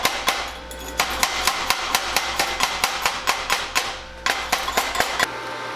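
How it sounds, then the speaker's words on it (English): A hammer chips welding slag off a fresh weld from an inexpensive DekoPro welder, a rapid series of sharp metallic taps close up, about twenty strikes in an irregular rhythm with a short pause near the end. "let me go ahead and clean some of the slag off here"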